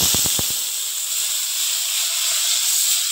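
Water poured into a hot pan of frying vegetables for a Bengali bele fish curry, a loud steady steam hiss filling the whole clip after a few brief knocks at the start.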